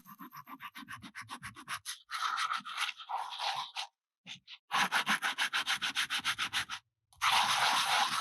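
A concrete surface being sanded by hand, with quick rhythmic back-and-forth rubbing strokes in bursts, broken by short pauses, close and clear with no talking.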